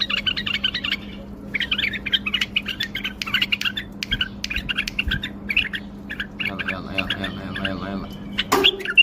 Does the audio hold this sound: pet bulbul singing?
yes